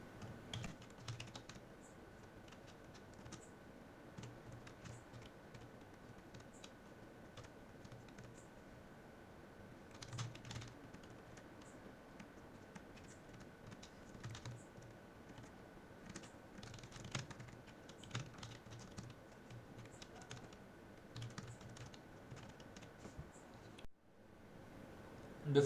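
Steady, quiet typing on a computer keyboard while writing C code, a continuous patter of light key clicks with occasional louder taps, close and alone over a faint hum.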